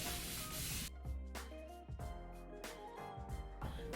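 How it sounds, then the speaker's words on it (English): A few quick hissing sprays from a spray bottle of water onto hair, short bursts spaced about half a second apart, close up. "I'm just gonna use a spray bottle with water in it."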